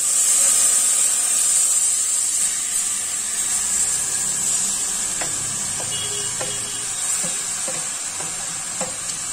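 Shredded green mango goes into a small amount of hot oil with five-spice over low heat for a sweet-sour pickle, producing a continuous bright sizzle with occasional light clicks and taps of stirring.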